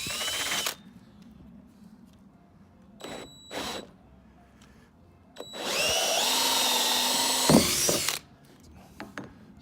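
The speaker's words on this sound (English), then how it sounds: "So the first thing to do is to drill the holes. I have a 1 1/4 inch hole saw here" A 1 1/4 inch hole saw on a power drill bores holes for a DIY chicken waterer. A few short whirring bursts come first, then one longer steady high-pitched cut lasting a few seconds.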